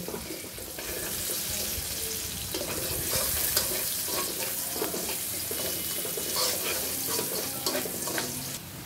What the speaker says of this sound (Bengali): কড়াইতে তেল দিয়ে পেঁয়াজ ভেজে নিচ্ছি